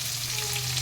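Fish sizzling in hot oil with curry leaves, a steady close frying hiss filling the short moment without any voices.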